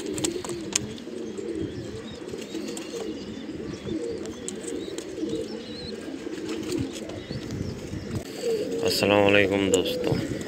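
Pure-bred Sialkoti pigeons coo softly and repeatedly over a busy background murmur. Wings flutter occasionally, and a louder burst of calls comes near the end.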